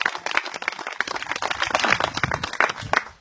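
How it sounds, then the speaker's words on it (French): Applause from a small outdoor garden gathering: dense, steady clapping from many hands, fairly close and lively, lasting the whole stretch without pause. "Vous pouvez l'applaudir bien fort parce que c'est magnifique"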